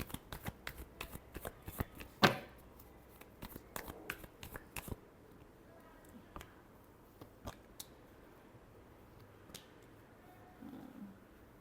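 Tarot cards are shuffled in a burst of rapid soft riffles and slaps that thin out into sparse taps, then fall quiet, close up with no talk.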